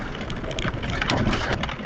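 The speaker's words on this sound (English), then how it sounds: "There's a lot of stuff reaching out and touching my vehicle right now" Branches scrape and brush along the body of a vehicle driving a wet off-road trail, a continuous close scratching rustle with a steady engine rumble underneath.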